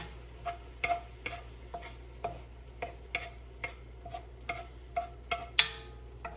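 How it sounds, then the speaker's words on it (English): Cooked Italian sausage being pushed to one side of a tilted pot, a series of sharp scraping taps from a utensil against metal, roughly one every half second, close and clear over a faint sizzle. "I'm going to tilt the pot, and then I'm going to push all of the meat to the side"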